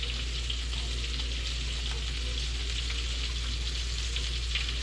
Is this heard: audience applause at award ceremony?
no